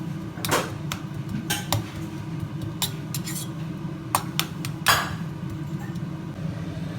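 Cooked dal mashed in a pot for sambar: irregular metallic clinks and scrapes of a utensil against the vessel over a low steady background hum, close by and without speech.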